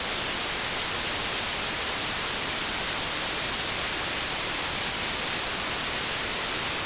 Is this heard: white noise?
yes